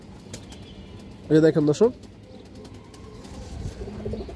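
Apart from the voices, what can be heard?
pigeon flapping and cooing while being shown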